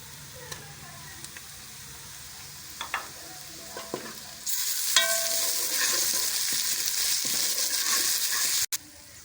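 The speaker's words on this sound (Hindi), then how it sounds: "अब इसमें अदरक और लहसुन का पेस्ट डाल लेंगे 2 चम्मच।" Ginger-garlic paste hits onions frying in oil in a pressure cooker: a few scattered utensil taps, then a sudden loud, sustained sizzle that hisses steadily, close and unbroken by speech.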